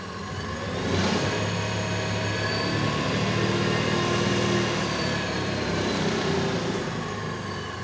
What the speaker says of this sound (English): You can now turn on this, and here you go, the motor is working